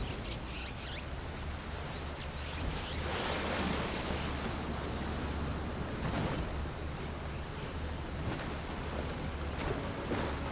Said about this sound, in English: that gyre's turning up the sea